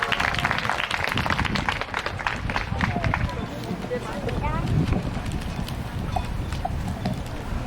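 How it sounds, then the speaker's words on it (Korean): A church congregation applauds during a family worship service, a dense sustained patter of many hands clapping in a hall. It is fairly loud and continuous throughout, with voices mixed into the clapping. "박수가 조금 작았던 것 같지만 한번 시작해 보도록 하겠습니다"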